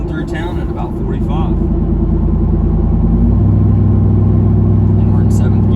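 A straight-piped Jeep Wrangler Rubicon 392 cruising through town at about 45 mph in 7th gear, its V8 exhaust giving a loud, deep, steady drone with a shift in pitch partway through and someone talking over it.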